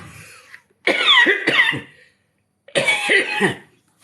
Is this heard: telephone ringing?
no